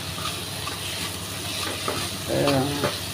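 Spices tempering in hot oil in a home kitchen give a steady close sizzle with a brief louder burst of crackle near the end, no talking.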